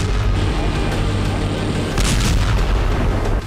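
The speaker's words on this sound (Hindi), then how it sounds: "खार्किव में रूस ने बैलिस्टिक मिसाइल से हमला किया।" Ballistic missile strike on Kharkiv, where rockets hit a thermal power plant: dense, continuous rumbling blasts and booms, loud and unbroken, with a sharper burst around the middle, no talking.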